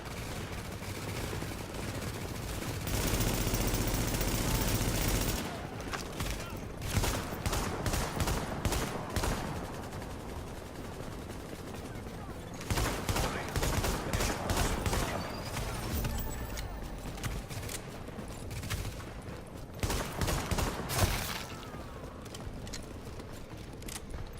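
Heavy gunfire in a video game battle, with dense bursts of automatic fire and scattered single shots that come in several loud waves over a steady background din.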